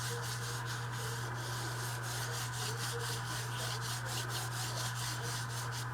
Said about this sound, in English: I use the mini distress inks just because they're a little bit easier when you're doing stuff like this to just rub around